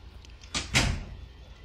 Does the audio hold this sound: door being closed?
yes